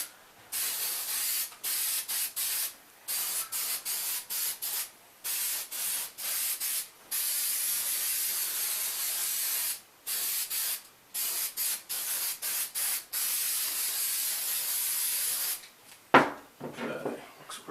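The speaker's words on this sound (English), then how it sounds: "And we'll just spray it down like we did the other ones." Repeated bursts of spray adhesive hissing in short rhythmic pulses while lining the inside of an antique trunk, close and steady, followed by a brief rustle of handling material.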